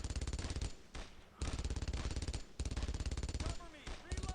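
Machine-gun bursts from the World War II shooter Brothers in Arms: Road to Hill 30, loud rapid rattling volleys in several bursts separated by short pauses.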